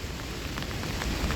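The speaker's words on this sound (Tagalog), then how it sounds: "Ayan yung ulan guys." Light rain falling steadily on surfaces outdoors, a dense even hiss with scattered drop patter, no voices.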